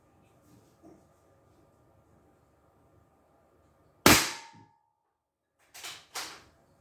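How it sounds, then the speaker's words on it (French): Gunshots during a shooting challenge: one loud, sharp close report followed after a pause by two quick cracks in succession, each decaying briefly, with near silence around them. "Attention, ça tire."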